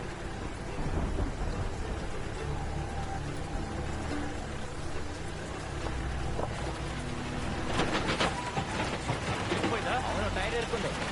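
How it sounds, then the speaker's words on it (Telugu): Heavy rain pours steadily with loud rolls of thunder during a stormy night scene in a Malayalam film, with voices faintly under the downpour and a stronger thunder crack near the end. "బాగా వర్షం పడుతోంది."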